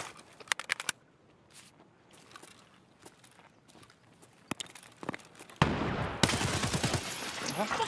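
Video game gunfire breaks out in quick rapid bursts, near and sharp, mixed with footsteps and clatter, then ends in a loud continuous blast of noise, with a voice talking faintly now and then.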